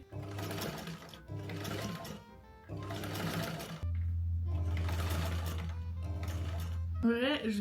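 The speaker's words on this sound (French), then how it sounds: "Donc là je vais coudre." A sewing machine stitches fabric in loud, even bursts, stopping and starting several times before one longer run, with a voice briefly heard at the end.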